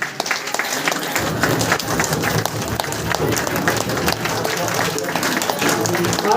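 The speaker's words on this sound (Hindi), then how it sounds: "तालियों के साथ सीटियां भी होनी चाहिए" An audience at an indoor meeting program gives a crowded round of clapping with sharp, uneven hand claps. Voices mix in under the noise, and whistles are not clearly evident.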